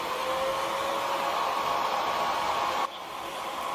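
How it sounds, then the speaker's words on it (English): A fourteen-year-old hair dryer running on its low setting blows a steady, close airy whoosh with a faint whine, then drops abruptly to a softer level near the end. "The only thing I'm gonna do now is use my hair dryer and yeah, dry it."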